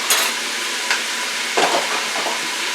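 Beef frying in a pan with sweet peppers and onions as it is stirred: a loud, steady sizzle close by, broken by a few scraping stirs, with no talking.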